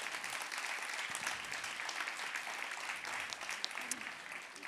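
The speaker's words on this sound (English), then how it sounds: "Let's give her another round of applause." Applause for Judy Chu, chair emerita, at a ceremonial congressional swearing-in event: steady, dense clapping from a large audience, moderately distant and sustained for the whole stretch without speech.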